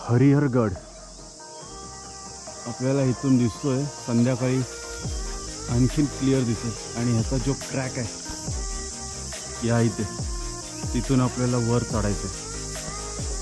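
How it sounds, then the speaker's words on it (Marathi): Steady high-pitched cricket chirring fills the background throughout, constant and unbroken, in a forest at night on the trail toward Harihar fort, while a person talks over it in the foreground. "आत्ता 7:30 वाजलेत तरी सुद्धा रातकिड्यांचा आवाज येतोय"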